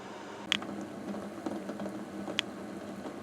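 Water coming to a boil in a pot holding eggs: a soft, steady bubbling hiss with a few sharp clicks and pops, quiet and close, with no voices.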